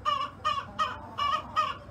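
A Cochin chicken with feathery feet clucks on a farm, giving five evenly spaced, fairly close clucks in a steady rhythm with no talking.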